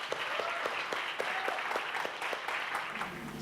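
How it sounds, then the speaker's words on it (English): An audience at a lecture gives a warm round of applause for Tomer: close, brisk clapping with sharp individual claps standing out from a steady roll of hands. "let's give a round of applause for Tomer"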